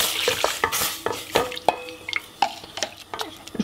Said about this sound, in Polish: mieszamy jeszcze raz dokładnie mleko z proszkiem budyniowym i wlewamy do gotującego się mleka